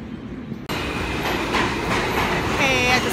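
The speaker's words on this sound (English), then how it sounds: "I just hopped on an F train to Bryant Park." Rumbling rail noise of a New York subway F train running, with steady clickety-clack and a brief high wheel squeal near the end, loud and continuous after a quieter start.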